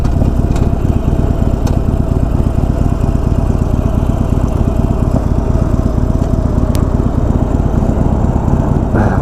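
A Harley-Davidson Iron 1200 motorcycle engine drones loudly and continuously, with rushing wind noise, like riding along at a constant speed.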